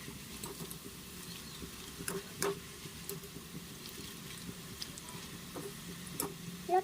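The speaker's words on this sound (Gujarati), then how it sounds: "નૂડલ્સને તેલમાં નાખીને આપણે સારી રીતે એકદમ ક્રિસ્પી થાય ત્યાં સુધી ફ્રાય કરવાના છે" Noodles made from leftover roti deep-fry in hot oil at medium heat, giving a steady, quiet patter of bubbling with scattered small pops and ticks.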